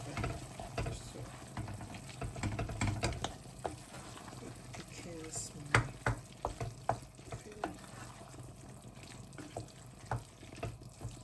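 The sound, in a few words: stirring flour slurry into meat pie filling in pot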